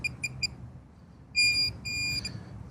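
A metal detector sweeping a park soccer field gives bright electronic tones over a buried target, three short chirps followed by longer sustained beeps, close and clear with no talk.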